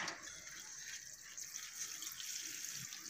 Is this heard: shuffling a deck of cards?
no